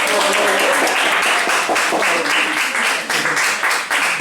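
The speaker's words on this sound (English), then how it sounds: "let's give one more big round of applause." Closing round of applause from an audience at a wet watercolor and aquarelle pencil workshop, a dense steady wash of many hands clapping for about four seconds, loud and close, with a voice murmuring underneath.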